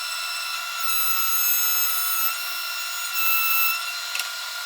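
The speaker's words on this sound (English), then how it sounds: "So this is the router table." A router mounted in a router table cuts wood for folding saw horses: a steady high-pitched whine that swells louder twice as the bit bites into the workpiece, with no talking.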